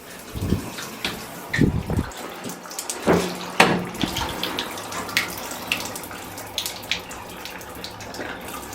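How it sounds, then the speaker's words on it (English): Water sprays from an adjustable shower head in a hotel bathroom at the Capitol Plaza hotel. The steady hiss of running water is punctuated by a few splashy thumps and handling knocks near the start. "Let's test the shower pressure here."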